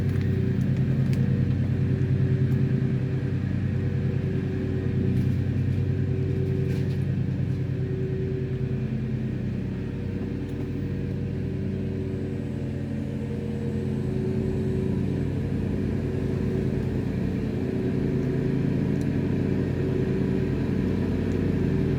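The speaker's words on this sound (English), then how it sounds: "Sorry about the noise, it's the lawnmower outside." A lawnmower running outdoors, heard as a steady low engine rumble and hum that drones continuously at moderate distance with no break.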